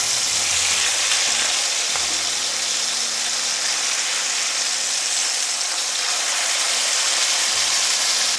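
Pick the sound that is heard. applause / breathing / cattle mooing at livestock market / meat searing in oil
meat searing in oil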